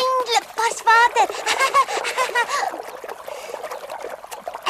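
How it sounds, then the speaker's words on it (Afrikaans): Water trickles from a fountain in an animated Heidi episode, a soft, steady splashing that sits under a talking voice and then carries on more openly. "Daar's 'n fontein."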